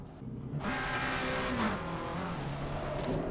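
McLaren race car in a racing video game at Laguna Seca, accelerating hard off the start line as its engine revs up, loud and steady with rising pitch and other cars roaring close around it.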